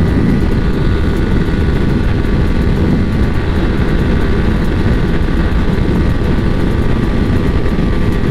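Steady loud roar of a KTM Duke 200 and Yamaha R15 V3 racing flat out at top speed, with heavy wind rush over the engine drone, continuous and unbroken with no talk.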